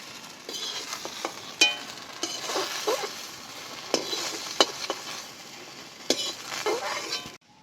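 Fried okra scooped out of a frying pan, with a continuous oily sizzle broken by repeated scraping and clinking strokes of a utensil against the pan, close and fairly loud.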